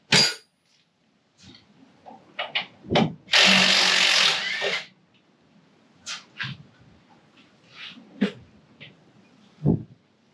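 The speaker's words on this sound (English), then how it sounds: "I'll just go ahead and pull both of the big bolts." Power tool, likely an impact gun, removing the large 18 mm bolts from a car's front brake assembly during a suspension teardown, heard as a loud sustained burst of a couple of seconds amid scattered clanks and handling noises.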